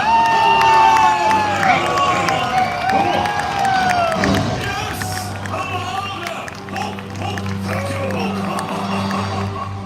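A theme park crowd at a live Disney villains show at Hollywood Studios shouts and cheers loudly, a dense swell of many voices over amplified show audio and an announcer speaking.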